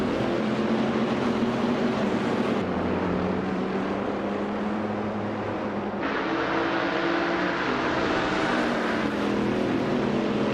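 A 2017 Norma M30 prototype race car engine droning steadily under the noise of other cars during a race, a continuous loud roar with pitch shifts as gears change.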